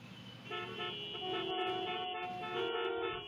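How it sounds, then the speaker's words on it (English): Car horn honking, with sustained tonal toots sounding loud and close, one blast running into a second with a short break between. "Why are we honking?"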